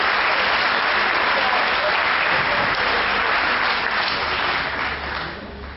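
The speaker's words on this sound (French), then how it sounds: "Vous pouvez les applaudir." Sustained clapping from a crowd at the closing of the AFJM 2009 gathering in Dax, honouring the translators; a broad, steady roar of hands that starts to fade near the end.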